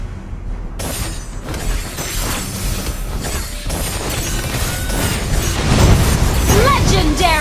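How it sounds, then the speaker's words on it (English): Turret destroyed in a Mobile Legends match, a dense burst of crashing, shattering and booming effects layered over busy game sounds, with an announcer voice heard in the mix. "Your team destroyed a turret!"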